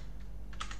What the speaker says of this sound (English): So let me just type it